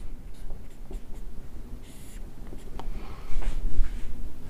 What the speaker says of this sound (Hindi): यहां लिखता हूं मैं नोट हेडिंग लिखता हूं